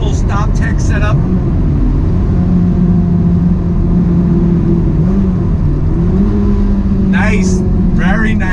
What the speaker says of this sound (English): I'm going to go ahead into this right-hand turn here and get on the brakes.